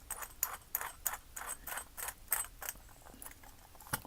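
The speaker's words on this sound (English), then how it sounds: "When everything is clear, then screw it back together." Someone screwing device parts back together by hand, giving a run of evenly spaced ratcheting clicks at close range that slows slightly toward the end, with no talk.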